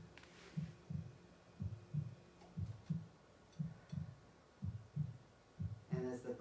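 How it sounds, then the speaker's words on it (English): A steady lub-dub heartbeat plays softly in the background of a guided meditation during a spiritual centre's Sunday service, about eight regular double thumps, low and even, with only faint voice traces. "the sound of the heartbeat in the background"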